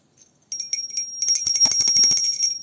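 A hand bell rings steadily during a Shivratri puja food offering, a bright sustained metallic clanging that starts softly and then turns into rapid, loud, continuous ringing close by, with no voices.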